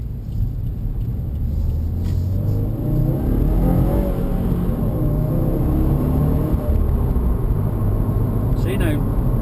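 Manual 2016 Subaru WRX accelerating hard with the engine revving, a loud steady interior rumble and engine drone throughout, with road noise underneath.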